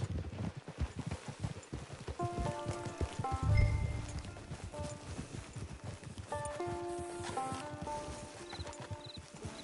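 A horse's hooves clip-clop steadily at a walking pace in Red Dead Redemption 2 online on PS4, a continuous rhythmic beat with game music and faint rain-like ambience around it.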